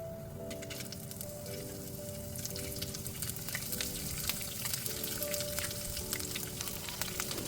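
Onion frying in hot oil with cinnamon, cloves and peppercorns gives a dense, continuous crackling sizzle, close and steady throughout, with a faint tonal hum in the background.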